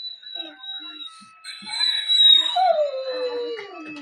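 A puppy whines and cries in high, wavering tones, rising into a longer drawn-out wail that slides downward near the end.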